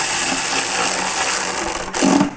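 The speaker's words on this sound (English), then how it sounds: "we can go ahead and start running these screws in" Power driver running screws into new Advanblack lower fairings on a 2023.5–2024 Harley touring motorcycle, a steady close whirring buzz that dips briefly near the end before resuming.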